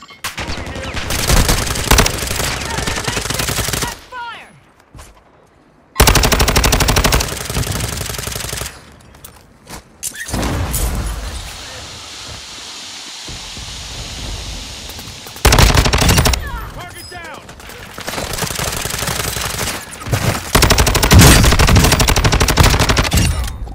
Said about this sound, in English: LMG rounds here.